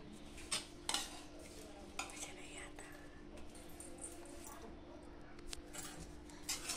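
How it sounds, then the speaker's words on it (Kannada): Masala rice being stirred and mixed in an opened pressure cooker with a ladle, giving faint scraping and a few clinks of metal on metal over low background noise. "ಇದು ಚೆನ್ನಾಗಿ ಮಿಕ್ಸ್ ಮಾಡೋಣ."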